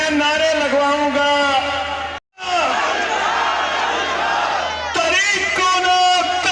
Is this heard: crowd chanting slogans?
yes